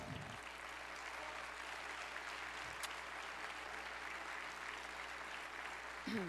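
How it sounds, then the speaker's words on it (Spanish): An audience at a business talk applauds in a steady, continuous round of clapping heard at a quiet, distant level, with brief voice sounds at the start and end. "por favor, un aplauso muy fuerte para mi mano derecha, Adrián Alvarado."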